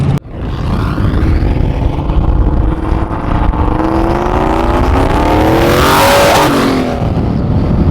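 Loud, steady engine roar of a 4.6L 2V Mustang GT with an On3 70mm turbo accelerating hard, the pitch climbing through the gears with a rising whoosh toward the end.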